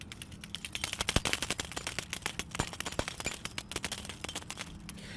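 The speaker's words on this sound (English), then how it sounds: "the side-to-side knock that you can get out of this bait" A wooden Japanese dog-style fishing lure knocks side to side in a rapid, irregular string of sharp hard clicks and thumps, close and loud, with no voices.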